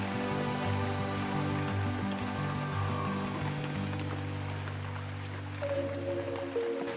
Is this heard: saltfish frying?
no